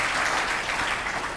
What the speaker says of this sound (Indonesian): kita beri tepuk tangan lah pada beliau ya